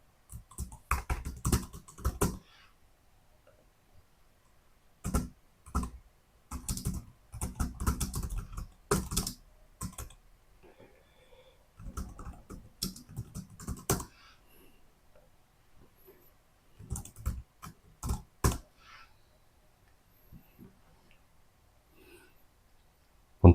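Computer keyboard typing during data entry of test specifications, clustered bursts of clicky keystrokes separated by short quiet gaps, close and clear with no speech over it.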